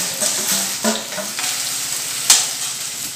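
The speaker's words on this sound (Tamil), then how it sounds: "இப்போ நம்ம நறுக்கி வச்ச வெங்காயத்தை போட்டுக்கலாம்." Chopped onions dropped into hot oil in a kadai for ridge gourd chutney, giving a loud, steady sizzle with a few stirring scrapes and a sharp spatter near the end.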